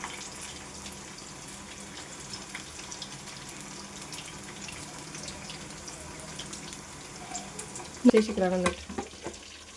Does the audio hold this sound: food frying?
yes